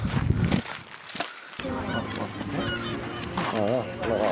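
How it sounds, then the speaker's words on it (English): Honking, squawking calls from a seagull overhead at a beach restaurant in Alvor, Portugal, a wavering cry rising near the end amid outdoor chatter and background clatter. "Seagull up there."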